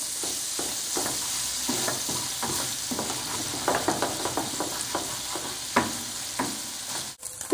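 Buffalo-sauced tofu simmers in a pan over medium-low heat, giving a soft continuous sizzle broken by repeated scraping and stirring clicks of a utensil against the pan.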